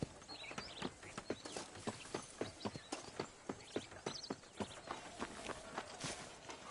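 Horse hooves clip-clop at a steady trotting rhythm while riding in Red Dead Redemption, a long run of evenly spaced, crisp strikes, fairly close, with no talking.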